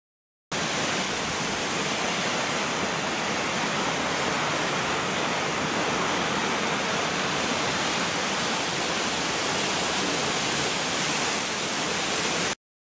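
Leura Bridal Veil waterfall in a valley, a steady, loud broadband roar of falling water that runs unbroken from start to finish with no voices.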